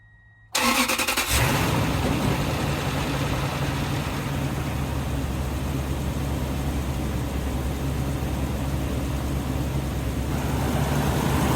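A Toyota Tundra's 2UZ-FE V8, just repaired after a snapped timing belt, cranks briefly and catches, then settles into a steady, loud, close idle that runs on alone.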